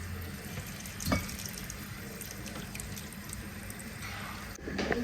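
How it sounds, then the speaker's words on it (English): Water runs steadily from a tap into a pot of beans being prepared for waakye, a quiet continuous splashing stream with a few small knocks. "We'll start by adding water to the beans."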